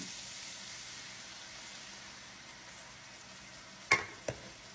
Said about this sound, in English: See how everything has cooked down and the sausage is starting to sizzle again.